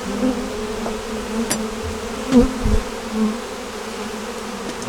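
Honey bees drone steadily around an open beehive, a close, continuous buzz with individual bees passing near the ear for brief louder swells.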